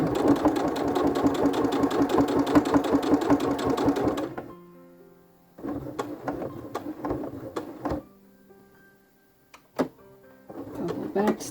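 A home sewing machine stitches through a thick quilt layer, first in a fast steady whir, then in halting short bursts with pauses and clicks, while a voice speaks intermittently.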